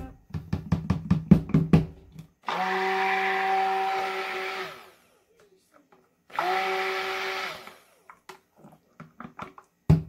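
Blackberry vanilla soap batter is churned with a stick blender in two steady whirring bursts of a few seconds each, with brief knocks and taps from the container before, between and after them.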